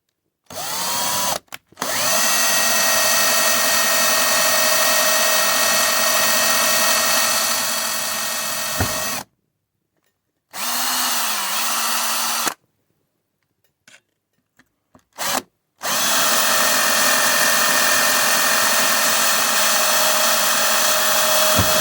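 A high-speed power tool cutting through PCB material around a pin on a Marshall amplifier circuit board, a steady whining drone in several long runs separated by short pauses, close and loud.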